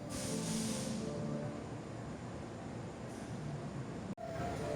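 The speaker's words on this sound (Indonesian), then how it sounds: "dari arah barat segera masuk kereta api Tawang Jaya dari Pasar Senen tujuan akhir Semarang Tawang" The Tawang Jaya train from Pasar Senen rolls into Semarang Tawang station, a steady low rumble and hiss of rail cars with a faint higher whine, ending in a sharp brief dropout.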